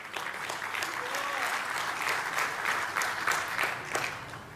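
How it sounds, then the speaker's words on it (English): Steady, dense applause from a conference audience at a military coalition event, a continuous wash of clapping held at even loudness throughout, with no talk over it. "Let's give them a round of applause."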